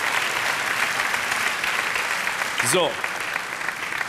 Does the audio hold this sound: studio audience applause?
yes